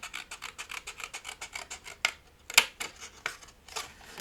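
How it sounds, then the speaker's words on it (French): Scissors cutting a tissue box flap, a fast regular series of rasping snips, close and fairly quiet, with a few sharper, louder cuts near the middle and end. "Là où j'ai fait mon arc de cercle ovale, je le coupe comme ceci."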